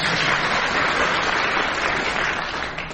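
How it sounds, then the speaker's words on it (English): Studio audience applauding a pair of panellists on a British radio music quiz show, a dense steady clapping wash that holds loud throughout and tapers slightly at the end. "they would like you to applaud them now, please."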